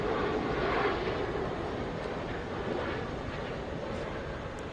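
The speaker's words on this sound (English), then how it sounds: "That is an Airbus A350." Airbus A350 heavy jet arriving at Atlanta airport, a broad distant roar that swells early and then slowly fades, steady and unbroken with no voices.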